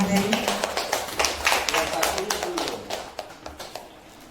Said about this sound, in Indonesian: Sekali lagi beri tepuk tangan untuk para pemateri.